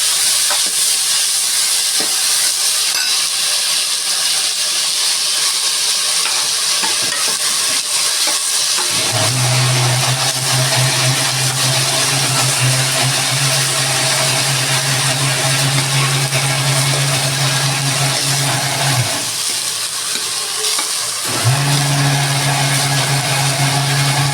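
Soaked field beans (avarekalu), about 2 kg, fry in oil for sambar, a loud continuous hissing sizzle that runs throughout with a steady low burner drone, no talk.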